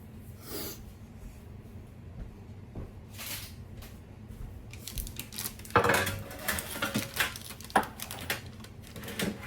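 Items are moved aside on a kitchen counter and a baking pan is fetched for rolling out gluten-free, dairy-free cookie dough: scattered clinks, knocks and metallic clatter, growing busier toward the end, close by with no talk.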